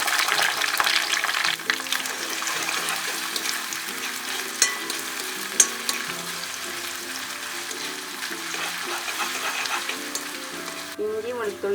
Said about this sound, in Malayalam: അടുത്തതായി ഇഞ്ചി വെളുത്തുള്ളി ചതച്ചതിടുക.